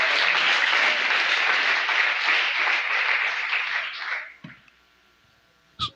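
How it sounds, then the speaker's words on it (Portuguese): Church congregation applause during a sermon, dense sustained clapping that gradually fades out near the end, leaving quiet with a couple of small knocks. "Aplauda Jesus."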